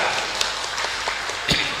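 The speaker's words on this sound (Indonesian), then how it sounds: "Kasih tepuk tangan yang meriah untuk anak kita." Audience applause for a child at an elementary school Qur'an completion ceremony: a short, dense wash of clapping with a few sharper claps standing out near the end.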